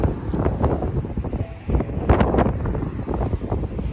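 Wind gusting outdoors on a breezy day by the sea, buffeting the microphone with rough, uneven low rumbles that rise and fall.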